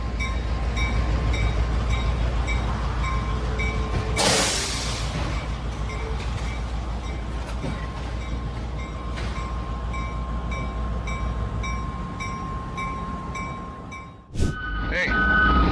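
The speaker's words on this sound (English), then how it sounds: "Another derailment, this time a passenger train in Pennsylvania" A passenger train in Pennsylvania, heard as a steady loud rumble with a sustained tonal hum and repeated beeping, a sharp noise burst partway through, and an abrupt clatter near the end.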